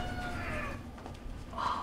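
Cats meow at a cat rescue and spay and neuter clinic in Fort Collins, a few drawn-out cries over steady room noise, close by and without talk.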